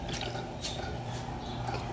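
Water is poured into a pan on the stove for bread dough, a steady faint liquid trickle with small drips running for about two seconds without talk.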